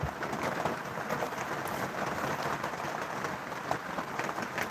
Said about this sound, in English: we got some nice ASMR New Zealand rain this evening